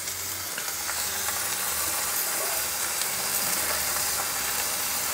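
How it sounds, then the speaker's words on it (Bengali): Washed rice and lentils for khichuri hitting a hot pan, giving a steady loud sizzle and hiss with faint stirring scrapes throughout, no voices. "আর আগের থেকে চাল ডাল একসাথে ধুয়ে রেখে দিয়েছিলাম, এটা এখন আমি এর মধ্যে ঢেলে দেব।"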